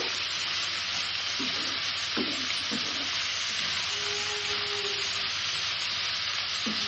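Food frying in a home-cooked dish for guests, stirred in a pan with a steady sizzle throughout and a few scraping stirs of the utensil against the pan.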